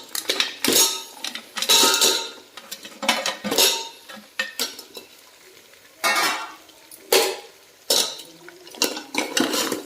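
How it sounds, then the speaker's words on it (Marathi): Live crabs tipped into a metal cooking pot for a spicy crab curry, with repeated clattering bangs and scrapes of shells against the metal, coming in bursts over about ten seconds, close and fairly loud, with no voices. "आता हे बघा हे खेकडे आहेत ना आता खेकडे यामध्ये सोडायचे"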